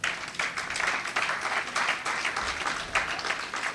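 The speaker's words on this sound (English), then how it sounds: "I want you to give yourselves a round of applause" Audience applause fills an awards ceremony hall, a steady, dense wash of many hands clapping that holds at an even level throughout, close and full with no voices rising above it.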